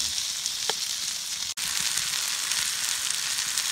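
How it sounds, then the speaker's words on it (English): Lamb steaks sizzle steadily in a hot pan over a campfire, a continuous loud crackling hiss with a brief dropout partway through. "Just sizzling away, nearly done our lamb steaks."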